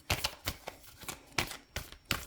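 Tarot cards are shuffled by hand, with crisp riffling and slapping bursts repeating at an uneven rhythm, close but quiet, with no talking.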